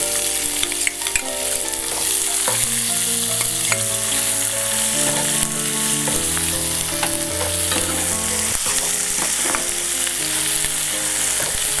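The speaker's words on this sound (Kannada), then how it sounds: "ಈಗ ಇದಕ್ಕೆ ಒಗ್ಗರಣೆಯಲ್ಲಿ ಈರುಳ್ಳಿಯನ್ನು ನಾನು ಬಳಸ್ಕೊಳ್ತಾ ಇದ್ದೀನಿ" Onions frying in a hot tempering, a loud continuous sizzle with scrapes and clicks from stirring, accompanied by background music throughout.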